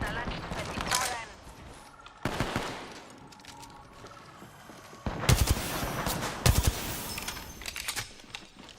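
Gunfire rakes toward the player in a video game: loud bursts of rapid shots come in several volleys, with sharper single cracks near the end, against a busy game backdrop.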